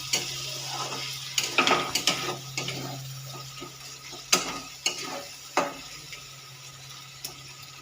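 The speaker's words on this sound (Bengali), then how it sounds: "অল্প অল্প করে একটু জল দিয়ে কষাতে থাকবেন" Chicken pieces stirred and sautéed in a pan with small splashes of water, a steady low sizzle broken by repeated sharp scraping clacks of the spoon against the pan, close and fairly loud, with no talking.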